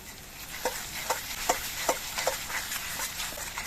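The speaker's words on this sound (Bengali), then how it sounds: "মশলাটা ভালো করে মিশিয়ে দিচ্ছে" Spice masala with turmeric is stirred in a pan for a doi katla fish curry, a soft sizzle beneath a regular series of spatula scrapes and taps roughly every half second.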